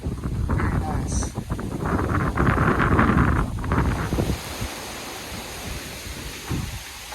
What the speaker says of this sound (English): That wind feels so good.